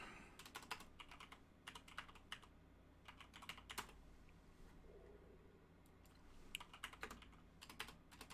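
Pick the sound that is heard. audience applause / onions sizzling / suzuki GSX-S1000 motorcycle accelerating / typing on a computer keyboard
typing on a computer keyboard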